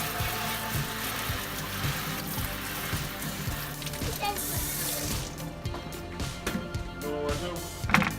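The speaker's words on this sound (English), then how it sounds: "Rinsing off the vegetables with cold water." Cold tap water runs steadily into a sink while vegetables are rinsed under it in a home kitchen, a continuous close hiss with faint knocks and clatter toward the end.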